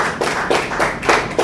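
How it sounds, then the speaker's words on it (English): Round of applause at a Ministry of Health and Sanitation media training event in Sierra Leone, close clapping in uneven bursts heard alone over a short stretch. "I would first of all like also to give a big round of applause to James from Speak of Africa"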